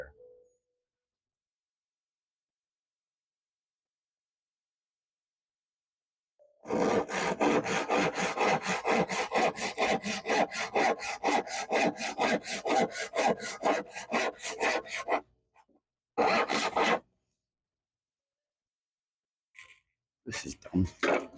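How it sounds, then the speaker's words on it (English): A hand saw cuts through a piece of poplar in fast, even back-and-forth strokes for about eight seconds. After a near-silent start, a short burst of sawing follows a pause, then a few final strokes are heard up close. "So you have to pardon me for a moment while I do some sawing here."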